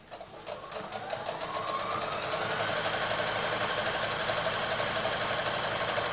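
A home sewing machine runs a fast, steady straight stitch around a fabric doggy draught excluder, a dense continuous whirring buzz that starts up quickly and holds loud and even throughout with no talk.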